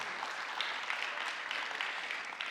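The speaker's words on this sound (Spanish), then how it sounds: "Damos un fuerte aplauso al Señor." A church congregation breaks into sustained applause after a prayer, a steady, even wash of many hands clapping at a moderate distance with no talk over it.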